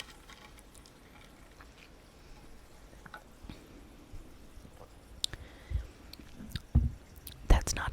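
Someone chews and bites into a green watermelon-flavored treat up close, with soft wet squishing and smacking sounds that grow louder near the end, over a quiet whispered backdrop.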